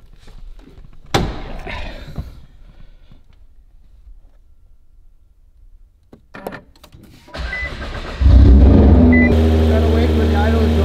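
A car engine with leaking blow-off valves cranks and starts after a long quiet stretch with a few clicks, then settles into a loud, steady idle close by.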